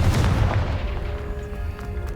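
A Confringo explosion spell goes off in the game Hogwarts Legacy as a deep, booming blast with a rumbling low tail that fills the short moment, loud and close with no talk over it.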